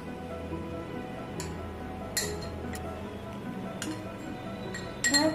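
Light clinks of a spoon or container against a glass or metal vessel as custard powder is added to cold milk in a kitchen. Sparse, faint taps sit over low background hum, with a brief cluster near the end.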